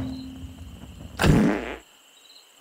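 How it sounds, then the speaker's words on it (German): A single cartoonish GTA 1 style fart sound from the Rustler video game, a short, loud, buzzy blurt lasting about half a second over faint background game ambience, then silence. "dann macht ihr diese lustigen GTA 1 Furze- und Rülps-Geräusche"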